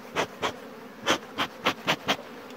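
Honeybees buzzing at a beehive on a mountain apiary, with a low background hum and about seven loud, brief buzzes as individual bees pass close by in an irregular rhythm.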